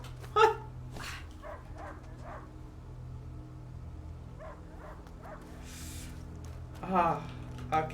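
Dog barking in the video game A Plague Tale, a few short barks at the start and again near the end over a steady low ambient hum, with faint soft sounds in between.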